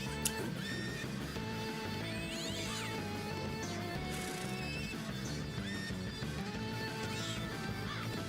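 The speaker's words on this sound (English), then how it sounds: "Cavalo." A horse whinnies inside a Homestuck Act 6 animation, its neigh blended into a dense, continuous musical soundtrack at steady loudness.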